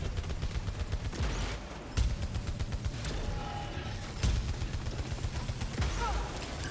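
Enemy turrets in the Returnal video game fire repeated rapid bursts of gunfire over dense background game sound, with several sharper blasts in the mix.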